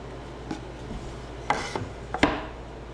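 Sharp wooden knocks and short scraping strokes come from work on an 8-foot 2x10 board being cut at an angle, a few separate close hits within a quiet room.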